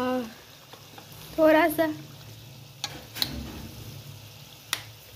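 Vegetables with capsicum sizzle and fry in a pan as soy sauce goes in, a steady low crackle with a brief louder hiss and a few clinks, while someone speaks briefly over it.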